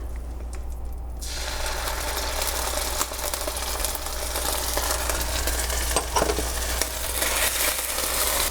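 Ginger sizzling steadily in sesame oil in a single pan for soy noodles with chicken, a continuous close frying hiss with faint stirring, no talk.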